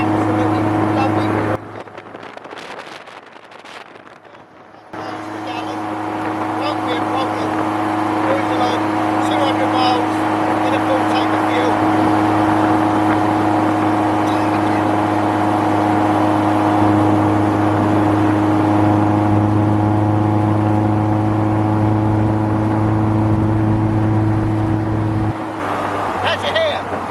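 A Sprint 185 self-assembly kit car cruising steadily at 70 mph around 3,000 rpm, its engine drone and road and wind roar loud and continuous, with a brief quieter dip early on; speech is likely mixed in.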